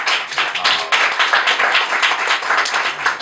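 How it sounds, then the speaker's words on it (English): A small group claps by hand, a brisk, uneven patter of claps continuing steadily for a few seconds, fairly close. "Give her a little hand clap"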